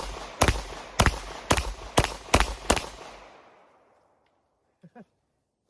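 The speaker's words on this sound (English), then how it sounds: "I'm gonna shoot not real fast, but just steady shots right down the center" Six loud, sharp shotgun blasts from a SAR USA K-12 Sport box-magazine shotgun, fired at a steady pace about half a second apart, each with a short ringing tail, followed by a faint clatter as things go quiet.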